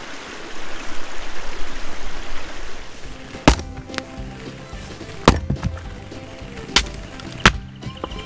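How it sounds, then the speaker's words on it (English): A river flows steadily through bush in Victoria's High Country, its broad rushing wash filling the first few seconds before it softens behind several sharp, loud knocks or cracks nearby, with no talk. "I'll enjoy this while I sit by this beautiful river"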